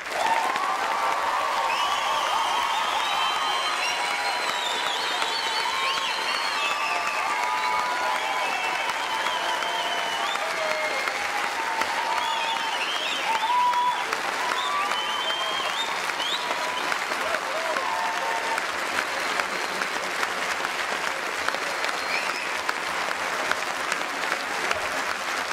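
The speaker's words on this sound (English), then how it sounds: "how about one final rousing applause for the graduates this afternoon?" Sustained applause from a large audience at a graduation ceremony, a dense and even roar of clapping that continues for the full length, with faint cheers and crowd voices mixed in.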